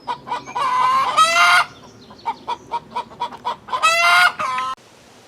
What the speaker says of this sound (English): the rooster's already helping her out announce it